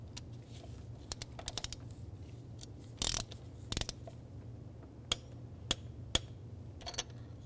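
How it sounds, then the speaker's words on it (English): A torque wrench clicks and ratchets while tightening a spark plug to 15 foot-pounds in a 2015-2019 Hyundai Sonata engine, with sparse, sharp mechanical clicks over a quiet background and a louder burst near the middle. "we're going to torque our spark plug down to 15 foot-pounds"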